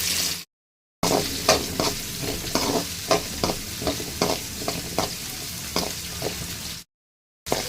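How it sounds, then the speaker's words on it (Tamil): Shallots sizzle in hot sesame oil for a fish curry while a spoon stirs them with repeated scraping strokes, close up, broken by two short silent gaps; no speech. "ஒரு பத்து சின்ன வெங்காயத்தை எடுத்து பொடி பொடியாக நறுக்கி வச்சுருக்கேன் அதை இதோட சேர்த்துக்கலாம்"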